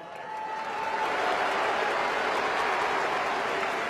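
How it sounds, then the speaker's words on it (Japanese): A stadium crowd at Rakuten Seimei Park applauds during a baseball hero interview, a broad, sustained roar of clapping that swells in quickly and holds steady. "この大歓声ですよ。"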